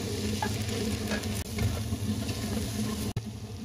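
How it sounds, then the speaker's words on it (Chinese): Ham sausage and cucumber stir-frying in oil in a wok, a steady loud sizzle with scraping stirs throughout and a brief dip near the end. "锅中继续倒一点油，将火腿肠和黄瓜放入进去"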